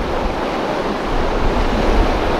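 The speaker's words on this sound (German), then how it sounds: "da kommt tatsächlich ganz schön viel Wasser raus" Water pours hard out of an opened canal lock gate, a steady loud broadband rush that swells slightly toward the end, heard close with no talking.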